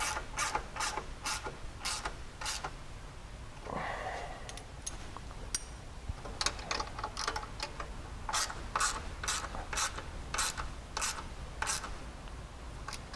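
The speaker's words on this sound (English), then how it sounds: "Then once you got it started, you can come in with your wrench and just grab the nut and bolt it down." Wrench tightening a nut and bolt, producing quick rhythmic ratcheting clicks in two runs separated by a brief metallic scrape, close and steady, with no speech.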